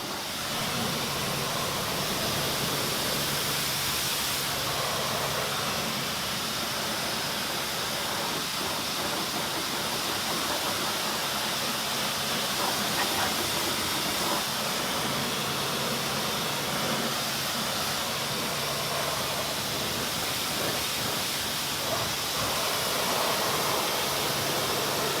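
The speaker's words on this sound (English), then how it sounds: "rinsed off the suds and general purpose cleaner residue with the pressure washer" A pressure washer rinses suds and general purpose cleaner residue off a car's wheel arch, making a steady, loud broadband hiss of water spray that runs unbroken throughout, with no talking.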